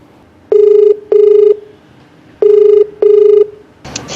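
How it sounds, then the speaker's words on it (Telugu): Telephone ringback tone while placing a call: two pairs of loud, clear electronic rings, each ring under half a second, with a short pause between pairs, and a burst of line noise at the end. "కాల్ చేస్తానండి."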